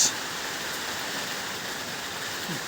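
Rain beginning to fall outdoors under a dark sky, a steady broadband hiss of drops that stays even and fairly close throughout, with no talking.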